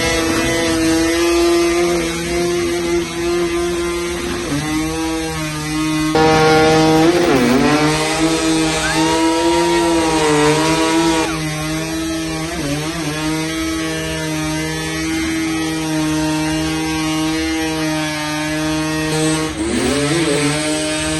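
Car engines revving hard during burnouts at an IMPI car event, a loud, sustained roar with rising and falling pitch sweeps, several surging revs over a steady drone, with no talking.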